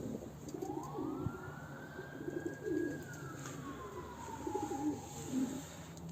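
Pet birds brooding on eggs, with soft repeated dove-like cooing at moderate distance, under a steady background hum and a long rising-then-falling whistle-like tone.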